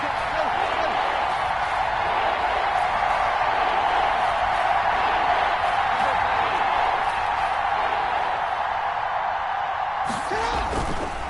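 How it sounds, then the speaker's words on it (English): Steady broad crowd roar in a PS4 video game football broadcast as a big third down approaches, a continuous wash of stadium noise holding level throughout, with a brief sharper burst near the end. "The crowd getting into it as we come up on a big 3rd down."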